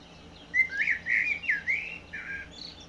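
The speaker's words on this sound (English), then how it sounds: "And then there's birds." A short recorded birdsong of chirps and warbling whistles with a slightly thin, reproduced quality, played as an MP3 through the built-in speaker of a Maozua voice recorder.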